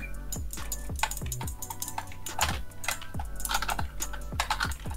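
Computer keyboard keys clatter in quick, uneven bursts of sharp clicks during a Rocket League game played on keyboard and mouse, close and fairly quiet, with no voices.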